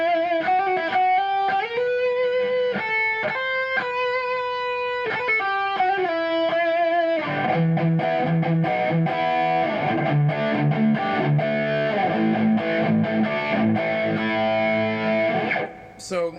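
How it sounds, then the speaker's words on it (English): A Kiesel Osiris electric guitar plays through heavy distortion with the bridge pickup coil split, first ringing single notes and bends, then dense chords, loud and continuous until it stops abruptly at the end. "So you hear, even with the bridge or coil split position, you still have clarity with distortion."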